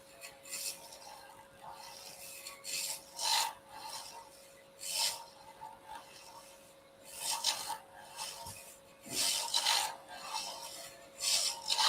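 A stabilized wood and banksia pod hybrid blank for a slimline pen spins on a lathe while a tool cuts it in repeated rasping, scraping bursts over a faint steady motor whine, close by with no speech.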